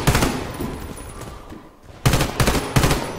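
Gunfire in the Warface shooter game: loud rapid automatic bursts at close range, a sustained stream of shots, a brief lull, then three more sharp volleys.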